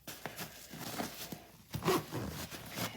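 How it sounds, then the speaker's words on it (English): A stuck compression zipper on a packed travel bag for an Alaskan cruise, heard as short scraping zips and tugs in bursts, with a louder strained pull near the end, close up amid rustling and heavy breathing. "Zipper stuck, hold on."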